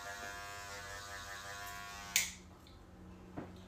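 Electric hair clippers buzz loudly and evenly while shaving a man's facial hair, then cut off sharply, leaving a quieter hum and a faint click.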